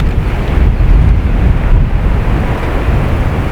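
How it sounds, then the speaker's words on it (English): Strong wind buffets a microphone outdoors at a shooting spot where a concrete house foundation block is being fired at, a loud continuous low rumble that swells and eases without pause and with no talk. "What a windy day."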